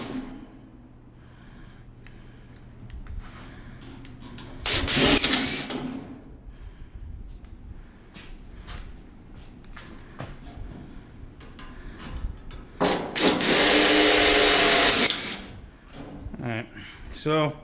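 Two loud bursts of a power driver sinking screws into a sheet metal trunk duct reducer, each lasting about a second or two, separated by quieter handling noise and talk.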